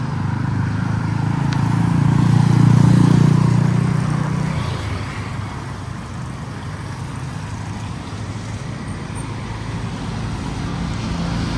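Street traffic in Sai Mai, Thailand: a heavy vehicle rumbles past close by and swells, then fades into a continuous wash of passing cars and engines at moderate distance.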